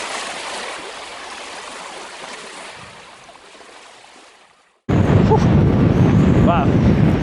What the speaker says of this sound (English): we're up on the breakwater and the wind is strong. I don't know if you can see behind me, the surf is big